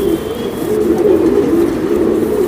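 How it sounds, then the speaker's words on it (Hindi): Racing homer pigeons coo in a loft, a steady, close chorus of low rolling coos overlapping continuously, with no voices present. "ये है रेसर होमर्स यानी कि होमर पिजन्स"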